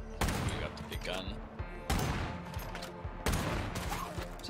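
A big gun fires in the video game State of Decay as three loud bursts of rapid gunfire spaced about a second and a half apart, with faint voices in the background.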